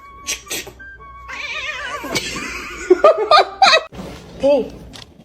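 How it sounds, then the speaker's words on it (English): A kitten meowing at home, several short high mews in quick bursts, mixed with people talking and laughing close by. "Meowing."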